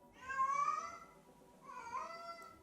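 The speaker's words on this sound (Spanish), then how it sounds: "el gato empezaba con su show del maullido y nos despertaba" A newly adopted house cat meows at home, two drawn-out, plaintive cries separated by a short pause, close and moderately loud.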